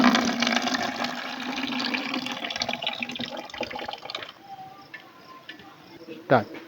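Water rushes out of a plastic container once its lid is loosened, a steady gushing flow for about four seconds that then thins to trickles and drips, ending with one brief knock; a faint voice sits underneath.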